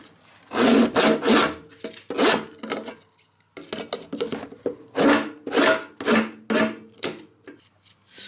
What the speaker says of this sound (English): when I peel the bottom bar off what's left of the frame that I just cut, it's got all this gunk on the bottom. So that's when the old hive tool comes in handy